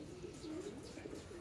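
Racing pigeons coo softly at the loft trap, a low wavering murmur that runs steadily under faint background noise.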